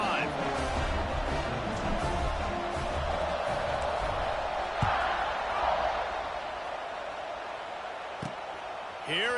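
Stadium crowd roaring steadily through a College Football 26 video game kickoff after a touchdown, a dense sustained wash of cheering with a few sharp thuds and a brief swell midway.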